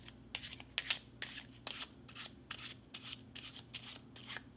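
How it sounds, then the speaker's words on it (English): A deck of playing cards rasps through an overhand shuffle, quick soft riffling bursts repeating in an uneven rhythm, close and faint with no voices. "you should know how to do an overhand shuffle"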